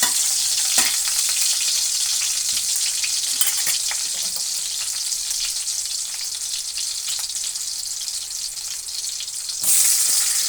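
Garlic sautés in hot cooking oil, giving a loud, continuous close-up sizzle with scattered crackles and a brief surge of spitting near the end.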